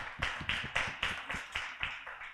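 Small group clapping in a meeting on spiritual gifts, a slow, steady run of about nine distinct close claps, fairly faint.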